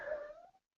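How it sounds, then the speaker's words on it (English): A single short cat meow, close and fairly quiet, tapering off after under a second. "that's my cat"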